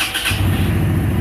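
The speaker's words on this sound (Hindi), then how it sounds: "और सबसे लेटेस्ट फीचर है जो इस बाइक के अंदर वो पुश स्टार्ट है।" Overdrive Raptor 250cc V-twin motorcycle started by push button, with a brief starter whirr followed by the engine catching into a loud, steady, close-up idle rumble.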